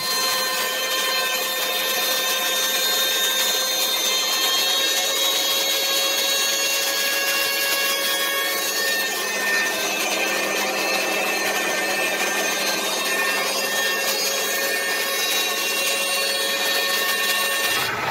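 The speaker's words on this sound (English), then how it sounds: "Let's throw this guy up on the CNC." A CNC machine cuts a piece of flame maple for a guitar, making a loud, continuous whining, tonal drone with a steady grinding texture that shifts slightly midway and holds without talking.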